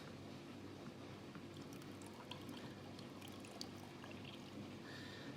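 Collected beer yeast is poured into apple cider, a soft steady liquid pour with faint splashing and gurgling, quiet and close throughout with no talk.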